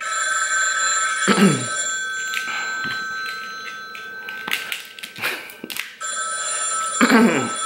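A telephone rings in repeated bursts, bright bell-like trills separated by brief gaps, fairly loud and close with clatter between rings, no talking.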